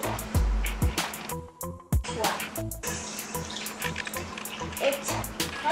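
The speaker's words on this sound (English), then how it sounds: "For every bottle of glue, you gotta pour water in it." Water pours from a tap into a bottle of glue during a homemade slime and colour-changing foam experiment, a steady running splash that stops and starts, with some knocking and handling nearby.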